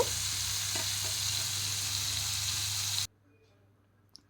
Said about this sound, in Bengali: মিট মশলা, মশলাটা এইভাবে 2 মিনিটের মতো কষিয়ে নেব